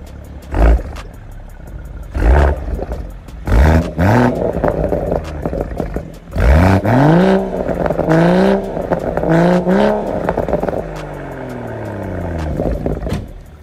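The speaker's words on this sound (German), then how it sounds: "Und zwar habe ich meinen Auspuff machen lassen." A car fitted with a freshly made custom exhaust revs hard again and again, each blip rising in a loud rumbling roar and dropping back to a burbling idle, close by and with no talking.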